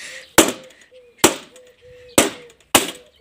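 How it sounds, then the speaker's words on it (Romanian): A mirror is struck and cracks, giving four sharp, separate glassy impacts with brief crunching tails, close and fairly loud, with faint low murmuring between hits. "S-a spart."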